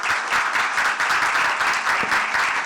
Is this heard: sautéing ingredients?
no